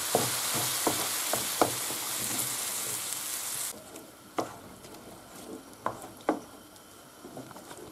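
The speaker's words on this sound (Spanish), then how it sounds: "ahora echamos el tomate. Y lo rehogamos otra vez" Tomato sizzles as it is sautéed with shrimp in a pan for arroz a banda, a loud crackling fry at first that drops to a softer simmer punctuated by a few sharp utensil taps while stirring.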